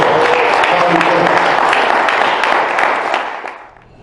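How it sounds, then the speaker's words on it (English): An audience applauds loudly at a national summit on the sustainability of HBCUs, dense clapping that holds for a few seconds and then fades out. "Please give a great round of applause for Tommy."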